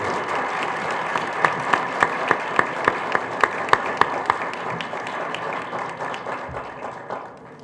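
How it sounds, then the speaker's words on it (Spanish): Audience applause at a book presentation at the Guadalajara book fair: a steady wash of clapping with a run of sharp, evenly spaced louder claps through the middle, fading away toward the end. "les pido por favor un fuerte aplauso para Beto Lati y Eduardo Sacheri"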